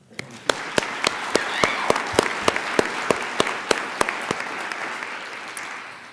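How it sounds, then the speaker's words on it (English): A crowd applauds steadily for several seconds at an LPN pinning ceremony, with a few sharp, distinct claps standing out at a regular beat above the dense clapping. "Let's give you a round of applause"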